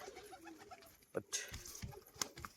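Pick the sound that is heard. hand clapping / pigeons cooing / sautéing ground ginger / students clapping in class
pigeons cooing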